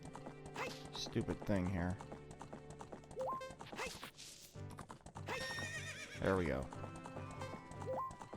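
Horse Epona galloping with steady clip-clop hooves and neighing in Zelda: Ocarina of Time, mixed with game music while someone talks over it.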